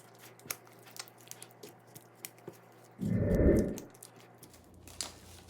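Flour and water are stirred into a batter: faint scattered taps, then a short, louder wet squishing swirl lasting under a second before the quiet returns.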